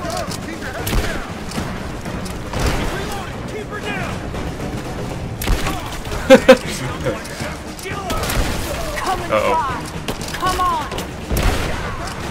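Gunfire in Rise of the Tomb Raider: a busy firefight of repeated shots and bursts over a constant combat din, with a couple of louder cracks near six seconds, and speech heard over the action.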